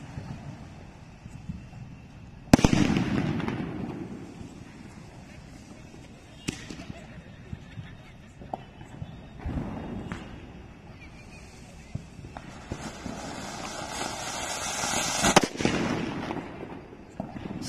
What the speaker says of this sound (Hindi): अब इस गंगा जमुना को जला के देखते हैं कैसी होती है।